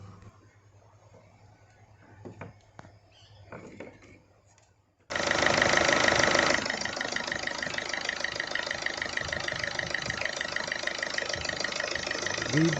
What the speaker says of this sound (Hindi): सीट बेल्ट लगा के गाड़ी स्टार्ट भी कर दी